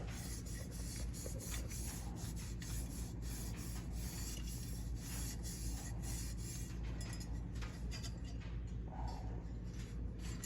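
Steady, close rasping and scuffing as a Cerakote-coated handguard is gently scratched, a continuous gritty rubbing with small clinks throughout.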